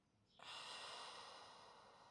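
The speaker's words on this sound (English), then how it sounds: "Big deep breath in," A single deep inhale during a yoga-style mobility stretch in child's pose, a close, breathy rush of air that starts abruptly and holds steady for nearly two seconds before slowly easing off.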